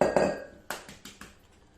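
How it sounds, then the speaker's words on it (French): An egg cracks sharply on a hard rim, then a few quick light taps and clicks against a mixing bowl, close and fairly quiet. "Nous allons casser l'œuf dans un cul de poule"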